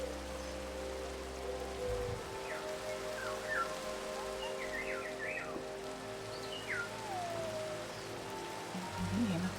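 Steady rain falls in the Minecraft video game, a continuous hiss that runs through the whole stretch, with bright chimes and tones from the game drifting over it and a few speech sounds now and then.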